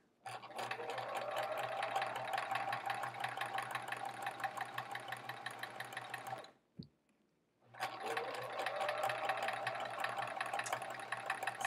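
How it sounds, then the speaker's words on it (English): A sewing machine stitches quilt fabric slowly and steadily with an even, close mechanical whir, stops briefly near the middle with a small click, then starts up again and keeps running. "I'm still just trying to sew slow and steady, so I can focus on straight lines and my 1/4 inch seam allowance"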